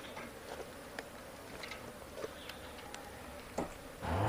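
Asian honey bees (Apis cerana) buzzing faintly as a colony is relocated from a well, a low steady insect drone with a few soft knocks and a louder rustle near the end.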